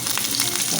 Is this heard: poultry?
no